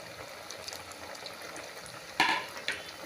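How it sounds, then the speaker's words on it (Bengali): Semolina sweets fry quietly in hot oil in a pan, a faint low bubbling hiss with occasional soft stirring, broken by two sharper scraping clatters near the end. "এবার একটু একটুভাবে নাড়িয়ে দিচ্ছি যাতে গরম তেলটা মিষ্টির গায়ে লেগে গিয়ে মিষ্টিটা ফুলতে শুরু করে"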